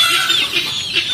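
Three greedy broiler chickens and a guinea fowl in a backyard native chicken pen cluck close by, with repeated bright, choppy calls in quick irregular bursts and no talking.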